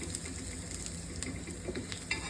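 A soft, dry sizzle of coriander powder roasting in a pan, with occasional light scraping and stirring clicks, quiet and close.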